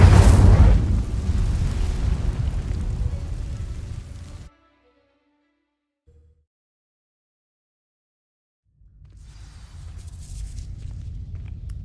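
In Hogwarts Legacy, an Incendio fire spell sets dry vines alight with a loud whooshing burst and crackling roar that fades to silence, followed a few seconds later by a softer rumble of lingering flames.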